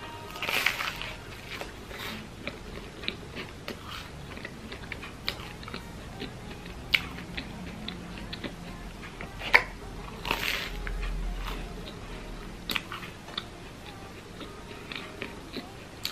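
Crispy Mont Blanc chestnut puff pastry is bitten into, followed by close, quiet chewing with irregular flaky crunches and small crackles over several seconds, without talking.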